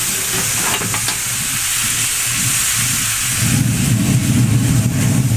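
Meat sizzles steadily on a grill, a broadband hiss that grows louder and fuller in the last two seconds as the pieces are turned and squirted with apple cider vinegar, apple juice and Worcestershire.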